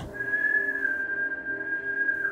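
A young man whistles a long, sustained, clear note outdoors, held steadily for a couple of seconds with slight wavering, loud and close against a quiet background.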